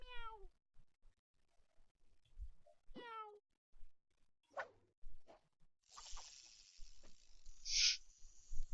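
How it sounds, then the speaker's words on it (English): Cartoon cat meows in the video game Toontown Rewritten, two short sliding meows early on, followed by sparse game blips and a brief hiss, fairly faint and isolated. "That meow sound though."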